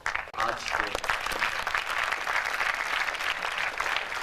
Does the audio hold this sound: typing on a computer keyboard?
no